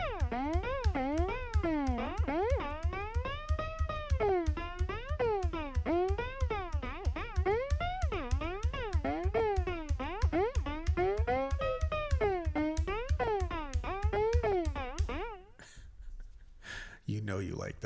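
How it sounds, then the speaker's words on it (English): A rapid stream of repeated piano notes whose pitch swoops up and down in constant wavering curves, then breaks off into a short noisy tail. "if I go ahead and play my piano, it's going to go all over the place in pitch"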